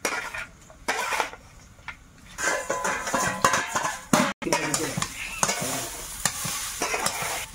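Leafy greens stirred and fried in a pan in a Sundarban village kitchen, with repeated scraping strokes of a utensil against the metal over a continuous sizzle, loud and close.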